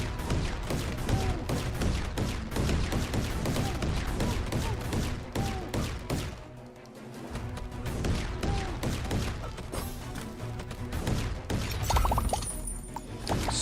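Explosion runes in the tower defense game Emberward fire a dense, rapid barrage of loud blasts and crashing impacts, nearly continuous, briefly thinning midway before the bursts pick back up, with no speech.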